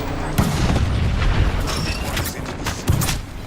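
A thermite grenade goes off in Apex Legends amid a busy firefight, with a dense, continuous rumble and crackle, broadband booms near 0.4 and 2.9 seconds, and scattered sharp cracks throughout.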